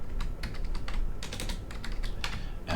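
Quick, uneven clicking of keys on a computer keyboard, close and steady for a few seconds, with no speech.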